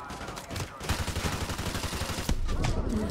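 Rapid automatic gunfire from the video game Modern Warfare 2 Remastered, played on Veteran difficulty, crackling in dense bursts throughout with a sharper shot near the end, loud and steady.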